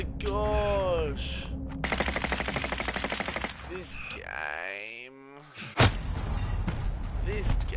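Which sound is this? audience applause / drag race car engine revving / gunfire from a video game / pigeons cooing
gunfire from a video game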